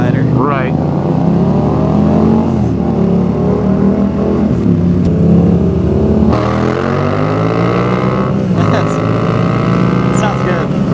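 A cruiser motorcycle rides with a steady, loud engine drone, its pitch climbing and dropping as gears shift smoothly, with wind noise throughout and a rider talking over it.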